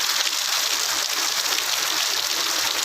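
Heavy evening rain pours down in Mangalore, a dense, steady hiss of downpour that stays loud and unbroken throughout, with no voices.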